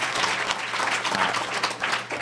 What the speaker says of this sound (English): Give a round of applause for that response, please